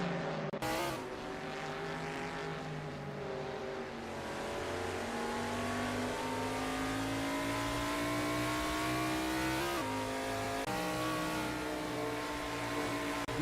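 In a sim racing game, race cars speed by with loud, sustained engine whine that rises and falls through gear changes, with several sharp shifts and a pass near the start.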